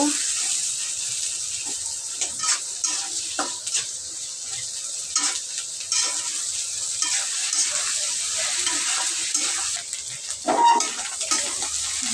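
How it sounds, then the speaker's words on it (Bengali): Ground small shrimp and shrimp heads frying to one side of a pan, a continuous close sizzle with scattered crackles and utensil clinks, light background noise throughout. "ছোট চিংড়ি মাছ আর চিংড়ি মাছের মাথা যেটা বেটে নিয়েছিলাম এটা দিয়ে দিলাম এখন এটা দিয়ে এক সাইডে একটু ভেজে নেব"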